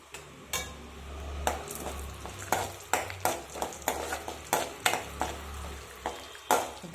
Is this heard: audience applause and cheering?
no